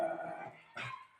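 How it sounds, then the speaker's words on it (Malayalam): Pet dogs bark close by in a short indoor burst, a sharp bark followed by a second yelp after a brief pause, with no talk over them. "ഇത് കൊതി പിടിച്ചിക്കാട്ടെ ഇവിടെ നമ്മുടെ പട്ടിക്കുട്ടിങ്ങൾ"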